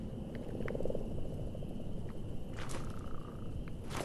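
Frogs croak in a marshy area of the video game Mortal Shell, with scattered calls over a dense, steady ambient background and a few sharper ticks and rustles toward the end.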